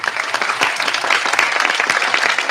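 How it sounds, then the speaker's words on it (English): Loud, close applause with many hands clapping rapidly in a dense, continuous burst lasting a few seconds, no voices. "Give me applause."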